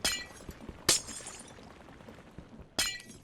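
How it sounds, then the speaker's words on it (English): Glass shattering inside a crusher machine in the modded game Modded Inc., with three bright crashing breaks spread over a few seconds and smaller clinks and tinkles between them. "I think some glass might have gotten crushed just now"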